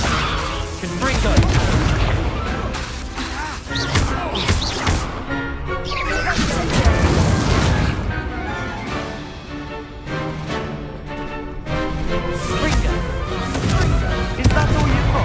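Confringo fire spells burst in a Hogwarts Legacy duel, a dense run of loud booming explosions and crashing impacts, with brief combat voices underneath.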